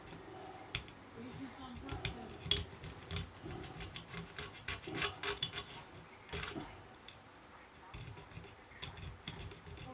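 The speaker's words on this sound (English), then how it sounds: "Yeah, it just scrapes off." Residue being scraped off a part of a Collaro record deck, a run of close, dry rasping strokes in irregular bursts, with speech over it.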